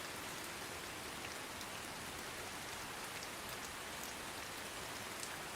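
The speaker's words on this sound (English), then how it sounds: "The rain was coming down in sheets" Steady, heavy rain pours down in a dense, unbroken hiss, with scattered drops spattering on a hard surface throughout.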